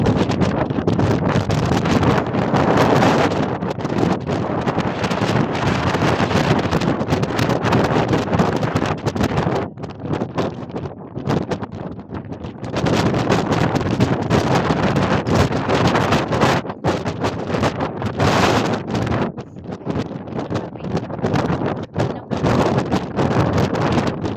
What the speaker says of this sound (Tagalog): sobrang lakas ng hangin doon sa